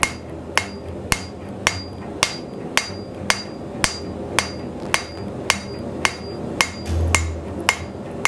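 A blacksmith hammers steel to extend a bevel, striking about fifteen loud, ringing blows in an even, steady rhythm with a brief low rumble near the end.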